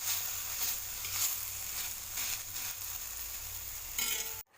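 Vegetable palya stir-frying in a pan, a continuous bright sizzle with stirring scrapes rising and falling over about four seconds before cutting off abruptly.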